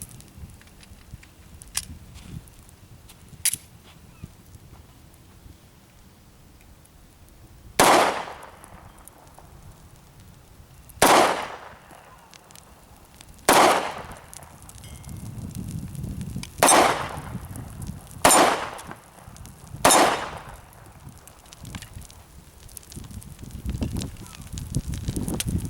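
Sig Sauer P290RS 9mm pistol firing Remington UMC 115 grain jacketed hollow points: six sharp, loud shots spaced a few seconds apart outdoors, after a couple of faint clicks, with low background noise.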